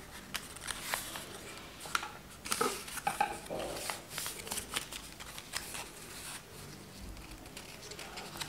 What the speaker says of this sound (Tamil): அப்படியே ஃபோல்ட் பண்ணிட்டு கட் பண்ணுறேன்